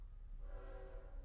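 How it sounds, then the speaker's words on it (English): A train going by in the distance, its horn sounding as a faint, sustained tone over a low rumble. "You hear that train going by?"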